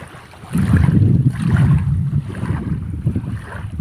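Strong wind gusts and waves on open water from a fishing boat, a low rumbling buffet of wind on the microphone with surging water swelling and easing in uneven pulses, close and fairly loud.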